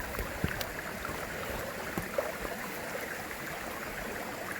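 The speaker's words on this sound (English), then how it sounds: "there's water flowing up here in the middle of August" Mountain stream flowing in mid-August, a steady broadband rush of water running continuously with small splashes, close and moderately loud, no voices.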